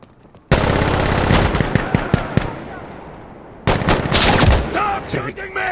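Insurgency Sandstorm video game firefight: a sudden burst of rapid automatic gunfire with sharp individual shots, a brief lull, then another dense volley of shots, with faint shouted player voices.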